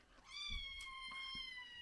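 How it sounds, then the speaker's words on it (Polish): A cat gives one clear, drawn-out meow close by in a quiet home as it waits to be fed, with a few faint background knocks. "muszę kończyć, bo koty wzywają"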